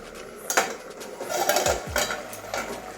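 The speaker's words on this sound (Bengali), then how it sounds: "এবারে ঢাকনা খুলছি" A metal lid is lifted off a cooking pot of simmering vegetables, giving a few close clanks and scrapes of metal on metal over a soft background, with no talk.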